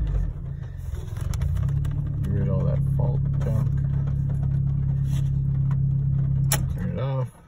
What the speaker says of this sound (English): We can give it a couple revs here